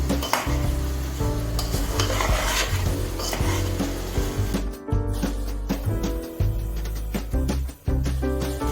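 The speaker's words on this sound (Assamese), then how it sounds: "এতিয়া আমি চাউলখিনি ইয়াতে দি দিম। এতিয়া ভালদৰে লৰাই দিম।" Rice being stirred in a pot while making pulao, a continuous scraping and rubbing of spoon against grains and metal with faint sizzle, close and loud, broken by a few sharp knocks.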